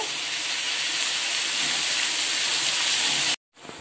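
Bitter gourd pieces fry in a pan with a loud, steady sizzling hiss that fills the clip, then cuts off abruptly near the end before a softer sizzle resumes.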